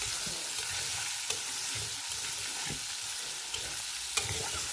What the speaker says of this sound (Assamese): এতিয়া আলুখিনি দি দিলোঁ।